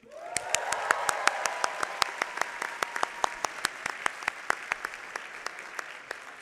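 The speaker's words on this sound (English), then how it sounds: "I would like a big round of applause, Master of Law and Technology" Audience applause at a law school commencement ceremony for Master of Law and Technology graduates, a broad wash of clapping with distinct louder individual claps popping out repeatedly, fairly distant in a large hall.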